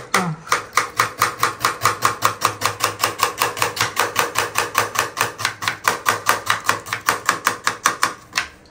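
A knife chops onions on a board in a fast, even run of about forty sharp taps, close and clear with no voices.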